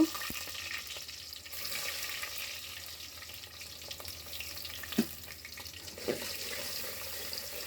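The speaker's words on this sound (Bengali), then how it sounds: "হাঁড়িতে পরিমাণ মতো তেল দিয়েছি। এখন পেঁয়াজগুলো দিয়ে দিব।" Onions sizzle and fry in oil in a pot, a steady soft crackling hiss at low level with a few faint clinks and no talk.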